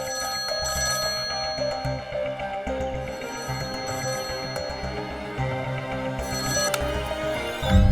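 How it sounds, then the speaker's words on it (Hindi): A home landline telephone rings repeatedly in a steady electronic pattern, heard without talk, with a louder thump at the very end. "बेल जा रही है।"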